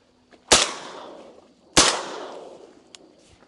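Two loud shotgun blasts during a public duck hunt in Nebraska, each a sharp crack with a long fading echo, about a second apart, with no talk between them.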